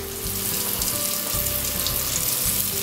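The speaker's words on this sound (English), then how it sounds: "So that's starting to fry nice." Food frying in hot oil: a loud, close, continuous sizzle and crackle with a low rumbling hum underneath, and no speech.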